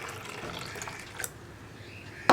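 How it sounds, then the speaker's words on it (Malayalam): Water poured into a thick ground paste for a Kerala-style fish curry, a soft steady liquid pour lasting a couple of seconds at close range, with no talk. "അപ്പോൾ 1 കപ്പും കൂടി വെള്ളം ചേർക്കാം നമുക്ക്."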